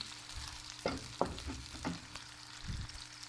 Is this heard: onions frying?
yes